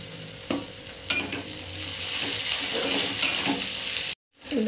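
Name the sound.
ginger garlic paste frying in pan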